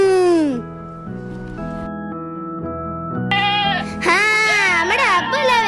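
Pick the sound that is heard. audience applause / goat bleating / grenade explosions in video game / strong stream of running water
goat bleating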